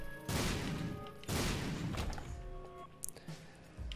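Explosions in The Binding of Isaac: Rebirth, two heavy booming blasts in quick succession followed by smaller crackling hits and thuds, loud and close.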